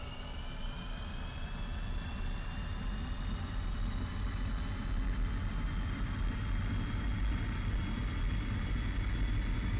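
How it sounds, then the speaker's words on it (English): A MiG-21 jet engine roars at full takeoff throttle in a flight simulator game, a steady loud broadband rumble with a rising turbine whine sustained throughout, no voices. "Advance the throttle lever to full throttle."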